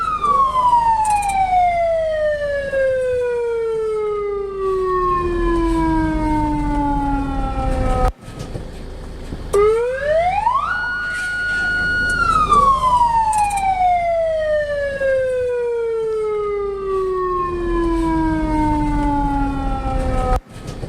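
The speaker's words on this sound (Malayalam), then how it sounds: "ആംബുലൻസ് ആയതുകൊണ്ട് സൈറൺ മുഴക്കാൻ പറ്റി" A loud ambulance siren wails nearby, its tone sliding down in long sweeps, then rising and holding high before falling again.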